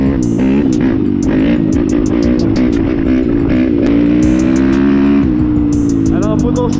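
A YCF 190 Bigy Daytona dirt bike engine revs loud and close, its pitch climbing and falling through repeated throttle blips, with a voice briefly audible under the roar.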